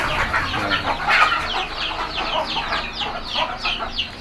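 Dense flock of chickens clucking continuously on a poultry farm, close and busy, with overlapping calls and no talking.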